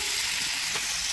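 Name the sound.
chicken frying lightly in white oil and butter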